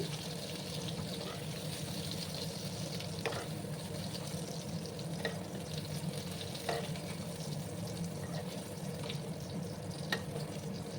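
Potatoes fry in oil in a pan with a steady, close sizzle and occasional faint stirring clicks throughout.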